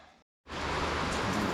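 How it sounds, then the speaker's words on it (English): Heavy rain pours down outdoors during an oil service on a 2014 Mercedes B-Class, a dense, steady hiss that starts after a brief pause and continues loud and unbroken. "Apologies for the rain, it's just started lashing it down"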